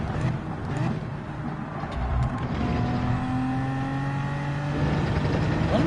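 Race car in Gran Turismo 7 at Watkins Glen, engine note climbing in rising pitch sweeps as it upshifts through the gears, steady and fairly loud with no talk.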